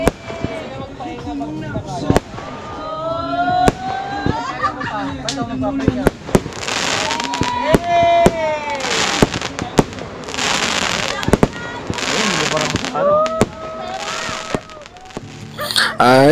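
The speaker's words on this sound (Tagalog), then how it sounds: "Kaya sila may fireworks dito eh." Fireworks boom and crackle repeatedly on Cagbalete Island, Philippines, during Holy Week, with sharp bangs and whistling rises scattered throughout, while people talk and exclaim in the background.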